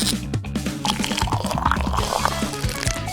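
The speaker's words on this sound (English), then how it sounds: "Add some water beads and, of course, water." Water is poured into a shell-shaped bathtub filled with water beads, making close, busy splashing, gurgling and dripping sounds across a few seconds.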